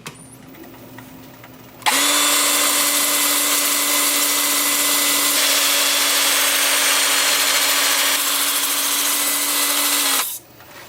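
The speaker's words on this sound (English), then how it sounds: "Okay, time for sanding." Power sanding on a Japanese quilted maple woodturning at 80 grit, a loud, steady motor whine with a droning tone that starts abruptly, runs evenly for about eight seconds, then cuts off, with no talk.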